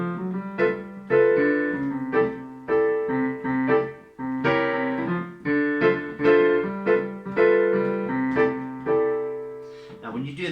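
Jazz piano plays drop-voiced chords in D, including a major 7th shape, as a series of sustained, ringing chord strikes at a moderate, even pace with no talking.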